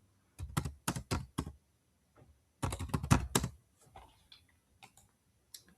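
Fingers type on a computer keyboard up close, with two quick bursts of crisp key clicks separated by a pause and a few scattered taps at the end.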